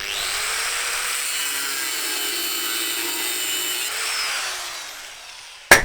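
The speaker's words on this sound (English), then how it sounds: "An angle grinder and a clamp." An angle grinder cuts steadily with a loud, continuous abrasive whine while clearing a stone ruin, then shuts off with a sharp knock at the end.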